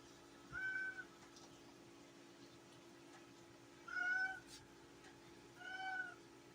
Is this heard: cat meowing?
yes